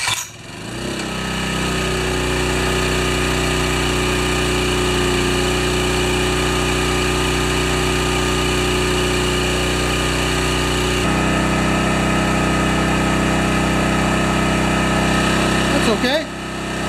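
An antique Honda EM600 generator engine catches and settles into a loud, steady, buzzing idle that runs without a break, changing slightly partway through and cutting off right at the end.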